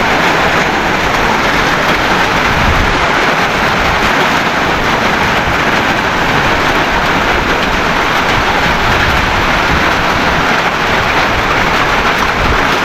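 Steady rain falls over a farm field, a dense continuous hiss and patter that stays loud and unbroken throughout, with no voices.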